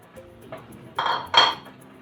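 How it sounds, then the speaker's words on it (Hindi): A glass bowl is set over a pot of hot water, producing a few close knocks and two louder clattering contacts of glass on metal, with no talk. "और एक ग्लास का बाउल जो है उसमें रखेंगे।"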